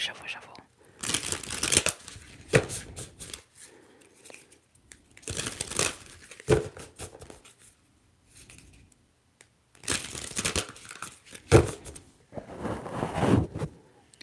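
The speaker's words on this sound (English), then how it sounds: "But we're gonna go ahead and shuffle." Bursts of papery tarot card shuffling come in several rough, rustling runs separated by pauses, close up, with a soft ASMR-style voice murmuring between them.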